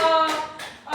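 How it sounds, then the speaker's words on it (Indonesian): A few quick hand claps in a third-grade primary classroom, brief and close, mixed with a sustained tonal voice-like sound. "Tepuk tangan dulu buat Putri dong."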